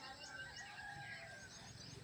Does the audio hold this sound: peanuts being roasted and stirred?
no